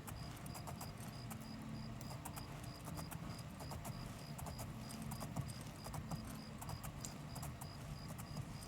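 Horse hooves clip-clopping at a steady walking rhythm in the video game Oblivion, a continuous run of sharp, regular hoofbeats over a low rumbling game ambience, with no talking.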